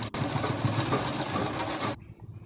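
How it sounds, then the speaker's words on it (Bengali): Sewing machine stitching folded fabric for palazzo pants, a fast steady mechanical whirr running loud and close for about two seconds, then stopping abruptly. "এরপরে এইভাবে ফোল্ড করে নেফার জন্য এটা সেলাই করে নিচ্ছি।"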